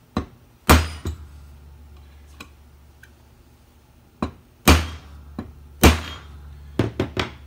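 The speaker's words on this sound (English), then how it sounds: "so I'm banging it from the other side" A steel punch is struck with a hammer to drive a part out during an RST install: sharp, close metallic thuds come in irregular bursts, some single and some in quick pairs, with quiet gaps between.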